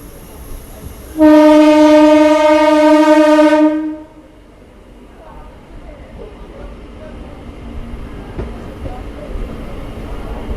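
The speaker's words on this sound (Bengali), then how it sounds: "আমাদের ট্রেন আজ কাটোয়া বর্ধমান নতুন মেমু ইয়মু লোকাল ট্রেন ভাতা রেল স্টেশনে প্রবেশ করলো" A new MEMU local train on the Katwa–Barddhaman line sounds a loud, sustained horn for a few seconds, then gives way to the low rumble and rattle of carriages rolling into Bhata station.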